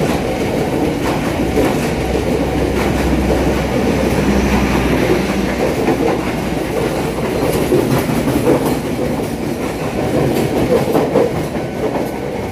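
A trainset runs through Pondok Jati station in Indonesia with a loud, continuous rolling rumble and steady clickety-clack of wheels over rail joints, close by and unbroken throughout.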